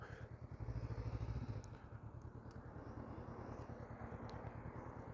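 Honda CB500F motorcycle riding to school in Belgium, a steady low engine drone with rhythmic pulsing, muffled under wind rumble, continuing throughout without talk.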